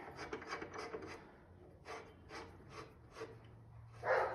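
A wooden branch sanded by hand with 220 grit sandpaper, rhythmic rasping strokes in repeated passes, close and fairly quiet, with a louder scrape at the end and no talking.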